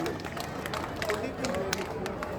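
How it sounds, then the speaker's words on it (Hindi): Audience clapping in welcome at a community gathering, a dense patter of many hands under a murmuring crowd, with a voice talking over it. "इनके लिए भी तालियों से स्वागत है"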